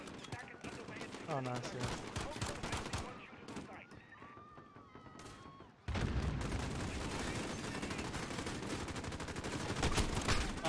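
Rapid gunfire bursts in the video game Call of Duty: Modern Warfare, dense and loud throughout, with a player briefly talking over the shooting.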